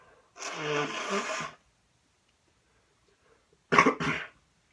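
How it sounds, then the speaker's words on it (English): Two bursts of forceful nasal blowing separated by silence, the first long and honking, the second shorter and sharper, close to the listener. "I'm gonna blow my nose."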